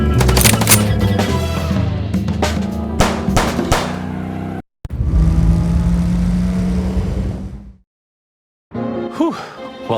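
Gunfire in the detective video game Chicken Police, a rapid close burst of shots over a game soundtrack, then a sustained roar that cuts to silence, followed by a brief voice.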